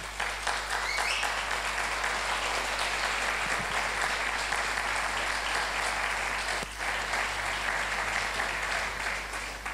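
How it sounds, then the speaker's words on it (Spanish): Sustained applause from a congregation during a church service, dense steady clapping filling the whole stretch at an even level with a low hum underneath and no speech. "Denle un aplauso a esa palabra."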